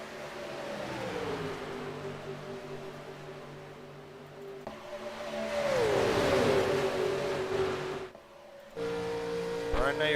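Race cars roar around Echo Parks Speedway in a Little Dog Big Dog event, a steady engine drone building to a loud passing car with a falling pitch, then a brief drop and the roar returning.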